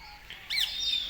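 A bird at the Bengal Safari zoo in Siliguri gives a single short, bright chirp, sharp and fairly close, over faint background noise.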